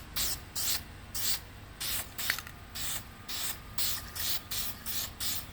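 Aerosol can of self-etching primer spraying in rapid repeated short bursts, close and steady, on a K24-swapped CRX.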